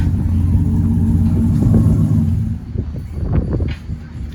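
A truck engine with stock exhaust manifolds, just before long tube headers go on, rumbles loudly and close at idle, then revs in a few sharp bursts.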